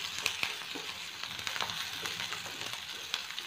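A pan sizzles softly and steadily while greens palya cooks, with occasional light scrapes and taps of a spoon; the frying stays faint and even throughout, with no voices.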